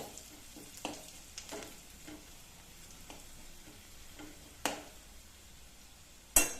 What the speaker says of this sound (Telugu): ఇప్పుడు ఇందులో కొద్దిగా కరివేపాకు వేసుకోవాలి వేసుకొని ఒకసారి ఇలా కలుపుకోవాలండి